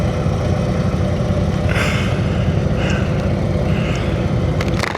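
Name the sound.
Harley motorcycle engine running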